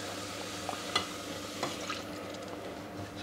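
Hot stock ladled into a pan of softened, translucent onions for pumpkin soup, a quiet steady sizzle and bubbling with a few soft clinks of the ladle against the pan.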